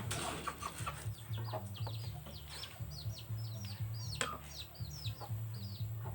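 Several chickens cluck and chirp in short bursts over a steady low hum, with scattered bird calls throughout.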